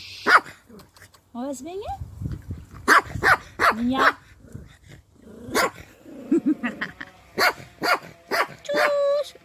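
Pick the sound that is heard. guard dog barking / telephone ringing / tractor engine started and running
guard dog barking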